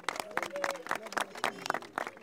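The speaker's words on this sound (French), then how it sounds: "On applaudit pour lui." An audience applauds a speaker at a gathering with a minister and protesting students, brisk uneven clapping from a nearby crowd mixed with voices talking over it.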